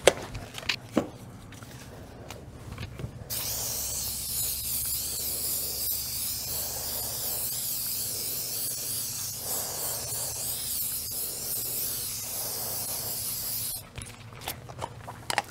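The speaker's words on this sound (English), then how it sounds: "spray it with our appropriate mold release" A steady non-silicone aerosol mold release spray hisses continuously for about ten seconds, starting and stopping abruptly, with faint handling noises before and after.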